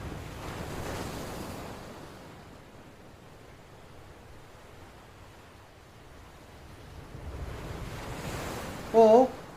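Stormy sea waves in a children's Bible story, a broad rushing surf that swells loud, eases to a softer wash, then builds again, ending with a short burst of tonal whistling.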